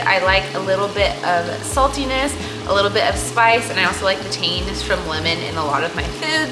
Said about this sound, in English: I hear stuff starting to sizzle.